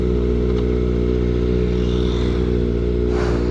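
A Kawasaki ZX4RR inline-four motorcycle ridden off-road drones loudly and steadily up close, its engine holding a strong, buzzing tone throughout with a brief rise in pitch near the end.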